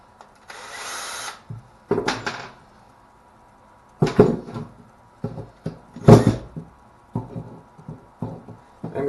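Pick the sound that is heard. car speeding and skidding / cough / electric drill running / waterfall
electric drill running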